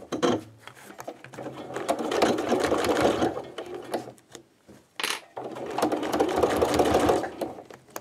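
Sewing machine stitching through several thick layers of fabric for a party card holder, running in two loud bursts with a brief pause between, close up with no talk.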